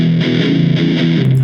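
Distorted electric guitar chugs a brief shuffle rhythm, a loud, close, gritty pattern of repeated double-stop strums.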